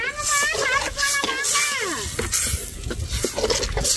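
Dried red chillies and mustard seeds crackle and sizzle in hot oil in a pan during tempering, with steady frying hiss, stirring clatter and sharp spitting pops throughout.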